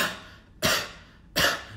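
Two deliberate, forceful coughs, close and loud, each a sharp burst that fades quickly, spaced under a second apart.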